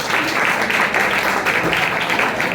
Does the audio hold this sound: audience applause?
yes